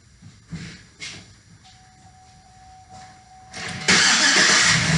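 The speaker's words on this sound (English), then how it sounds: "We're just going to start it until it dies, and then we can actually go on with testing." A car engine cranks with fuel injection disabled, starting briefly before dying, then a loud burst of broadband noise near the end; quiet stretches and a faint steady tone lie between the cranking attempts.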